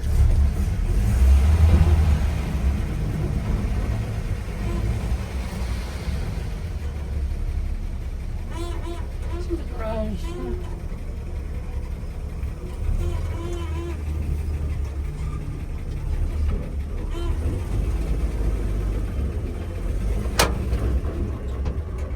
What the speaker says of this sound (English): Got its original 6-cylinder engine.